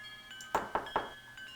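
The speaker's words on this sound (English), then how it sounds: "It's the same door sounds as the Titanic game." A door in the video game DUST: A Tale Of The Wired West gives three quick, evenly spaced clanking knocks, close and fairly crisp, followed by a fainter tap, over a quiet tonal background.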